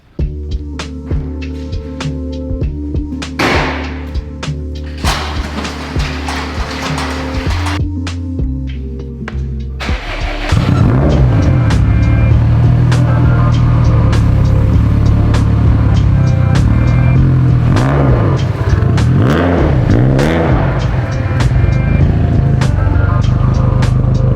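Modified Subaru STI with a big turbo making about 800 wheel horsepower, first idling with a lumpy throb, then revving hard and pulling away loudly with rising and falling engine pitch up close.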